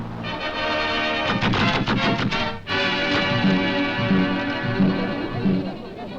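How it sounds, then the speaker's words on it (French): Machine guns firing in old archival footage of a miners' strike clash, a dense, loud continuous rattle of bursts with a brief gap partway through, filling the whole stretch. "Les mitrailleuses crachent."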